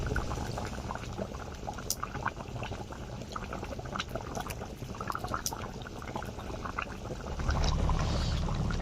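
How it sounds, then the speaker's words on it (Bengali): Chicken curry broth with meat and new potatoes boils steadily in a pot, a dense continuous bubbling and popping that holds close and even throughout, swelling slightly louder near the end, with no voices. "দেখুন ঝোল ফুটতে শুরু করে দিয়েছে।"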